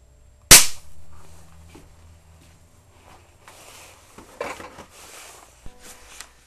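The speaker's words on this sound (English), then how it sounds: "That was an HHO explosion, definitely. You could tell by the snap." Sharp snap of hydrogen-oxygen foam from electrolysis igniting at a sink, one loud close crack followed by a short decay, then quieter handling noises and small clatters.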